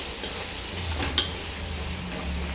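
Beef mandi ingredients sautéing in a pan with ground black pepper: a steady close sizzle with soft stirring and a single sharp utensil clink partway through.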